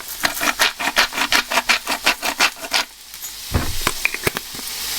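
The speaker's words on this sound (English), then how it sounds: "we'll give it a good grind of salt" Salt grinder cranked over a bowl of quiche filling, a close rhythmic run of rasping crunches that stops and then gives a few looser scrapes.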